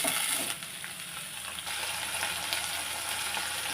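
Cluster beans with curry leaves fry in a pan, giving a steady close hiss and sizzle with faint stirring scrapes throughout.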